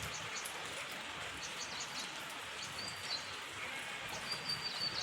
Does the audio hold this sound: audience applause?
no